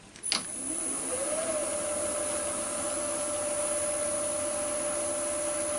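A new woodturning lathe in a home workshop clicks on and spins up to nearly 1000 rpm, settling into a quiet, steady motor hum with a faint high whine that continues evenly.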